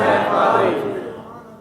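A large crowd roars a religious Labbaik slogan in unison, loud and dense at the start and slowly fading over a second and a half, with no single voice standing out.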